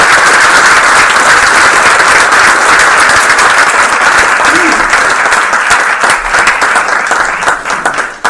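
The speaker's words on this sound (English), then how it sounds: "That deserves a well-rounded applause." A roomful of people at a school board meeting breaks into loud, sustained applause that carries on dense and steady for several seconds before tapering off at the end.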